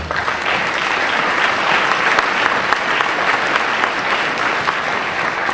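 A community choir's spring concert audience gives the TV crew a round of applause, a thick, even wash of many hands clapping at close range and sustained throughout.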